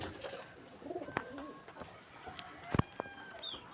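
Pigeons give soft, low coos and murmurs in a quiet coop among chickens, with a few sharper clicks and scuffles scattered through.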